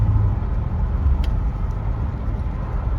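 A 1973 Ford LTD Brougham with a 460 V8 cruises on a bumpy road, a low steady engine and road rumble heard from inside the cabin, quiet and even with no speech.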